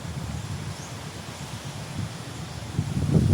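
Outdoor wind buffets the microphone in a continuous low rush, with faint rustling underneath and gusts that swell louder toward the end.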